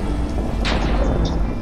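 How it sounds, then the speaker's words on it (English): Rain patters steadily in a Minecraft thunderstorm, with a brief rumble of thunder rolling through midway, loud and close throughout and free of speech. "As soon as I'm about to end the video, a thunderstorm."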